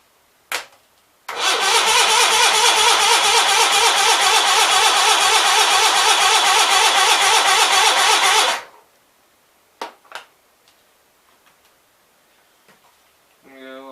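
An Onan B43 engine fed from a racing fuel cell is cranked hard by its starter for about seven seconds, a loud rapid chugging whir that stops abruptly, followed by a few faint clicks.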